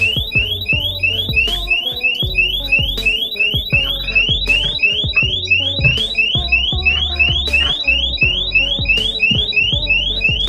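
A loud electronic alarm goes off during a burglary, repeating rapid rising beeps in a steady pattern for the whole stretch over low background music.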